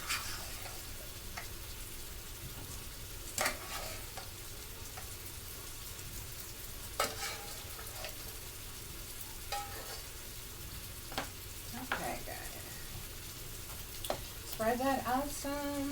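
Drained potatoes fry in a pan still greasy from bacon, giving a steady close sizzle with occasional scrapes and stirring clatter, while a voice talks over it.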